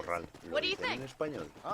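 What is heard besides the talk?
No distinct noise like a dog, phone or traffic.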